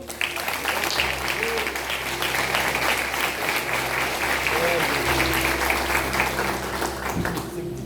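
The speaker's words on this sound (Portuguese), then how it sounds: "Aplauda o Senhor" Church congregation applauding the Lord during a sermon, a dense steady wash of clapping lasting throughout, with a sustained low organ or keyboard tone underneath and faint voices mixed in.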